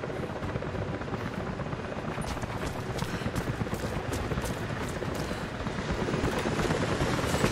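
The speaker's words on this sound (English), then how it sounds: "Jacob, helicopters are headed your way." Helicopters approaching in the video game Rise of the Tomb Raider, a steady loud rotor drone with rapid chopping pulses that swells slightly louder toward the end, with no talk over it.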